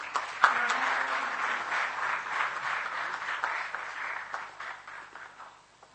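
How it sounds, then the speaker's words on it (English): An audience at a talk on Gandhian thought breaks into a rousing round of applause to welcome a speaker, dense steady clapping that gradually thins and fades near the end. "let us all welcome Sir with a rousing round of applause"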